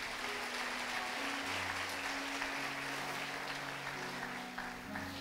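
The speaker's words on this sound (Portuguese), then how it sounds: "Aplauda o Senhor Jesus" A church congregation claps for the Lord Jesus in a steady, full round of applause under sustained organ or keyboard chords.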